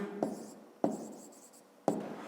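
Pen strokes on paper while a fifth-grade math exercise solution is written out, three sharp taps each followed by a short scratching trail, close and quiet with no talk.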